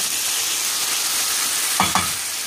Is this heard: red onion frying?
yes